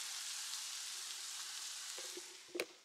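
Beef sizzling steadily in a hot pan, a close, even hiss of frying, with a couple of soft utensil clicks near the end.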